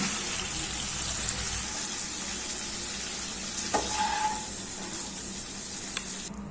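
Chicken gravy simmers down in a kadai as its water boils off, a steady close sizzle and bubbling hiss running throughout, with a couple of faint clinks partway through.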